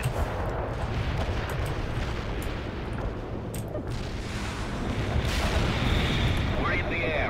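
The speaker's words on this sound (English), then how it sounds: "Commencing the barrage" An artillery barrage in the war strategy game World in Conflict, a dense and continuous rumble of heavy booms that swells louder toward the end.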